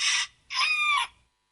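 A rooster lets out a short call, then a longer drawn-out crow, loud and close with a brief gap between them, then silence.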